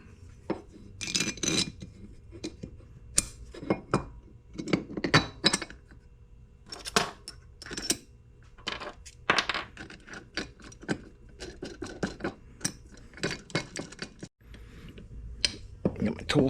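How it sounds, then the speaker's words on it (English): A blind bearing puller works a snap ring out of a transmission end plate during a Serveta Performer rebuild, giving repeated close metallic clinks, scrapes and taps in irregular bursts. "I'm going to use my blind bearing puller for this."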